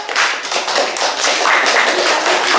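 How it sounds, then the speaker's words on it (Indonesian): Classroom clapping from children and a teacher during a primary-school microteaching lesson, a dense steady patter of many hands lasting the whole stretch, fairly loud and without talk. "berikan tepuk tangan"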